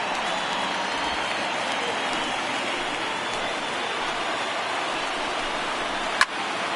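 A large baseball stadium crowd roars in the MLB The Show 19 video game during a Cubs–Nationals playoff game, a broad, steady wash of cheering and applause with a brief sharp crack near the end.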